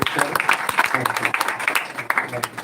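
Audience applause for a visiting gospel team at a live church gathering, a steady run of many hands clapping close by, busy and continuous with voices mixed in.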